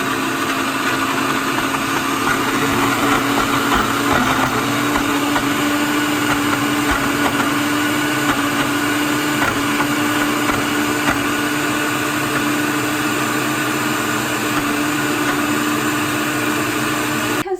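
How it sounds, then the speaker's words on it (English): A loud, steady motor whine of a blender running at high speed blending pumpkin hummus, constant and close throughout, cutting off abruptly at the end. "we're gonna go ahead and just turn the blender up to high and let it do its thing"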